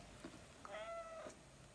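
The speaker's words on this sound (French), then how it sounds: "Viens mon chat." A domestic cat lets out a single drawn-out meow, fairly faint and close by in a quiet room, with no one speaking.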